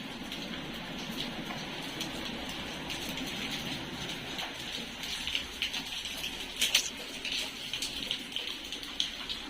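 Steady rain falling outside at night, a soft continuous patter with occasional sharper drips, fairly distant and unbroken by voices.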